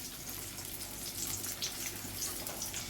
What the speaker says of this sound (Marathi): तेलामध्ये आपण लसूण थोडासा ठेचून घेतलाय. थोडासा गुलाबी कलर येईपर्यंत आपण परतून घेऊया.